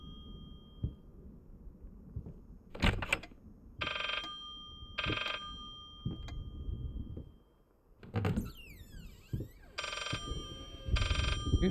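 A telephone rings in the horror video game Layers of Fear, repeated bursts of shrill ringing separated by pauses, over a dim ambient background with occasional thumps and a short scraping glide.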